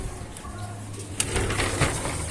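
Racing pigeon cooing softly at close range during a pigeon race arrival in Luisita, Tarlac, low murmuring coos with a brief flutter of wings partway through against light background noise.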